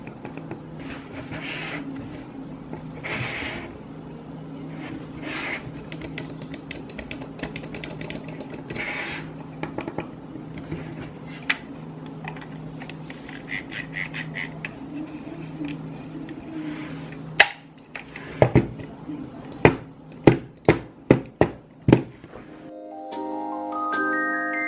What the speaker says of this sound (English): Let us check the sound of the clicks and the scroll wheel.